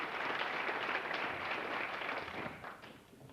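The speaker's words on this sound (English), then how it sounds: "How about a nice round of applause for our directors again." A banquet audience at a school athletics, activities and fine arts awards night applauds the directors, a steady wash of many hands clapping at moderate distance that slowly tapers off.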